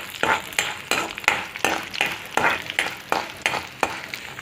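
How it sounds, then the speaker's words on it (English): Cashews and groundnuts roast in a pan, stirred in a regular rhythm of scraping strokes over a soft frying sizzle, close and clear with no talk. "I'll be adding lots of cashew, whole lot of cashew, and I'll be roasting it"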